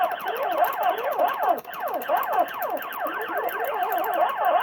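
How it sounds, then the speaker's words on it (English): Rapid warbling, zapping electronic shots from an arcade game on a bootleg Pandora's Box 5S, a dense repeating series of sweeping tones, steady and moderately loud. "The firing sound is definitely a bit weird."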